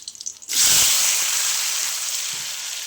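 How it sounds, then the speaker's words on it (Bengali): Chopped potatoes dropped into hot mustard oil in a pan, bursting into a loud, bright sizzle that holds steady and slowly softens over a couple of seconds. "আলুগুলো আমি 3-4 মিনিট মতো নিয়ে একটু লাল লাল করে ভেজে নেব।"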